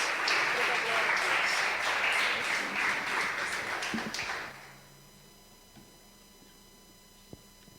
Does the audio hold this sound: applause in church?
yes